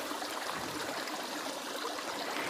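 A small spring-fed stream in a forest runs with a steady, soft, hissing trickle of flowing water. The sound is continuous, fairly quiet and close, with no voices.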